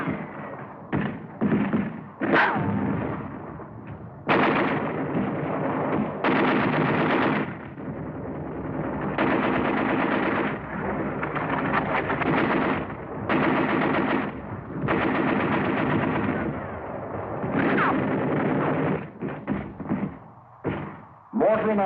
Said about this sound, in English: automatic fire from pillboxes